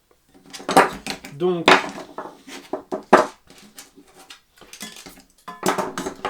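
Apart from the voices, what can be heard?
frying pan being handled and fitted to a target stand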